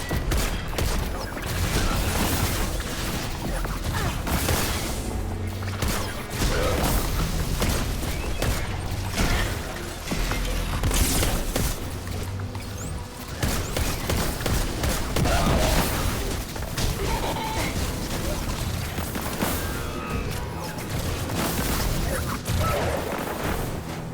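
Gunfire from a weapon in Destiny 2 during a Hunter grinding session: dense, rapid shots and impacts crashing almost continuously, loud and busy with booms and mechanical clatter mixed in.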